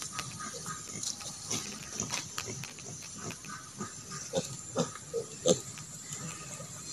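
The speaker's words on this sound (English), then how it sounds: "Peppa Pig, kumusta?" Native pigs on a farm grunting in low, short snorts at irregular intervals, some louder near the end, over faint hissing background noise.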